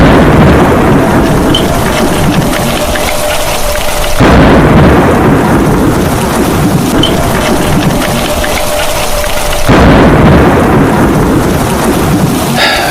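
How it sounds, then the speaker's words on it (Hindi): Heavy rain with rumbling thunder in a cartoon, a loud continuous downpour under deep rolling thunder that swells in repeating waves, no voices present. "ये बारिश रुकने का नाम ही नहीं ले रही।"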